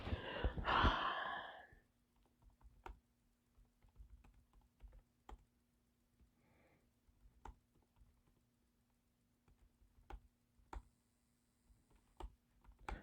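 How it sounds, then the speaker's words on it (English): Sparse, quiet keystroke clicks tap out on a computer keyboard in an indoor room, scattered irregularly over several seconds after a brief sigh-like breath at the start. "I'm typing some stuff and all that stuff"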